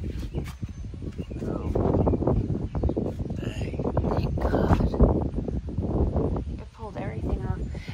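Strong, gusty wind after a severe thunderstorm with 70 mph winds, a steady broadband roar buffeting the microphone outdoors near parked cars and livestock, with a person talking over it throughout.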